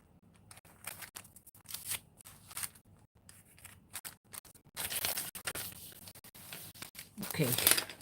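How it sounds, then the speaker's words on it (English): Scissors snip through a page of paper for a paper-napkin scrapbook project, giving a series of quiet crisp cuts with a louder rasping stretch near the end, while a person talks softly between them. "I need to trim this page."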